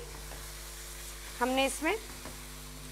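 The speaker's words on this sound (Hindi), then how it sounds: "अच्छी तरह कीमा शामिल कर लिया और इसको फ्राई कर लिया" Minced meat (keema) sizzles steadily in a pan, a constant close crackle running under a short spoken phrase midway.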